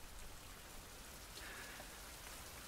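Steady, even hiss of rain pouring down in a survival video game, a dense unbroken wash of drops close around with no voices.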